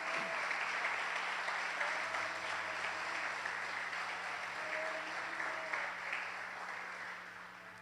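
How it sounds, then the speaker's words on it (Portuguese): Sustained applause from a church congregation fills the clip, dense clapping holding steady throughout at close range and easing slightly toward the end, with no talk over it. "Eu acho que tinha que dar um aplauso bem forte para Jesus."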